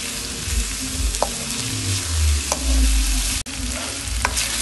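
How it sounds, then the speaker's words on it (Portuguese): Onion frying in melted lard in a pan, a close steady sizzle with occasional spatula scrapes and low rumbling stirring throughout. "Você deixa a banha derreter no calor da panela e bota uma cebolinha e deixa"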